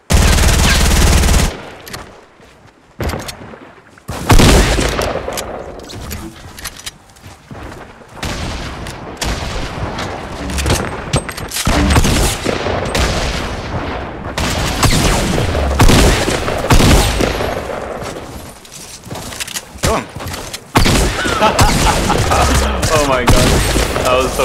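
Rapid bursts of P90 submachine gunfire in Fortnite rattle loud and close, with repeated volleys and brief gaps over a long stretch of game combat, a voice occasionally audible beneath.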